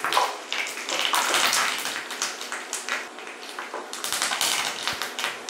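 Curry leaves crackling and spitting in hot oil, a dense, busy patter of small pops and sputters that comes in surges, close and fairly loud, with no voices over it.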